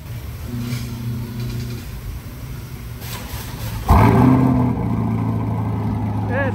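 A Chevrolet C8 Corvette fitted with an AWE exhaust starts up with a sudden loud roar that settles into a deep, steady idle, with people talking over it at first.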